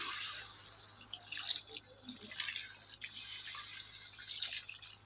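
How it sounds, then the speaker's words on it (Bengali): Filtered water poured into a cooking pot for a bata fish and ash gourd dish, a continuous close splashing trickle with small drips and bubbling, no talking. "এবার জল দিয়ে দিচ্ছি আর জলটা কিন্তু ফিল্টারের জল দিয়ে দিচ্ছি"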